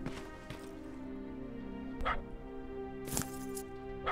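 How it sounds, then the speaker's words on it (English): Dog barking in the video game Terminator Resistance, a few short sharp barks spaced apart over a steady background hum, with a voice talking faintly underneath. "We hear a dog."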